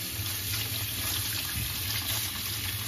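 Cold tap water runs steadily into a sink while dried figs are rinsed beneath it, making a continuous, fairly close splashing hiss with no one speaking.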